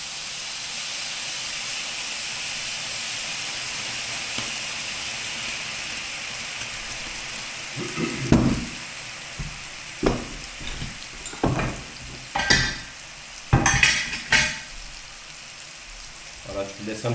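Sugar caramelizing in a pan with bananas for banana flambé, a soft steady sizzle that later breaks into louder bursts of bubbling and spatter alongside a few clatters.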